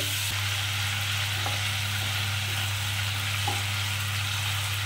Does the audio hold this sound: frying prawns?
yes